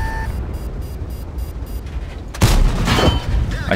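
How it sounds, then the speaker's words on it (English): Artillery shell fire slams into a Jagdtiger tank destroyer in World of Tanks, a sudden loud blast partway through that rolls into a long crashing rumble and debris, following a quieter stretch of rhythmic engine and track noise. "what just shot me then? Artillery."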